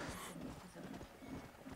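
Horse hooves clip-clopping at a quick pace in Red Dead Redemption: Undead Nightmare, a steady faint rhythm of hoofbeats with a louder thump at the very end.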